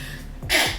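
A single sharp sneeze bursts out close by after a brief inhaling breath, loud and abrupt, then fades quickly.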